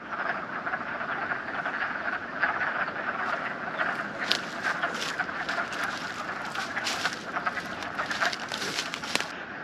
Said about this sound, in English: maybe I can show you some wood frog